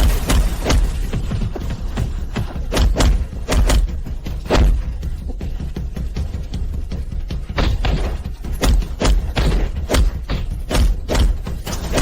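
Repeated dull thuds of blows as people beat someone, a steady barrage of heavy close impacts with scuffling in between, loud and continuous.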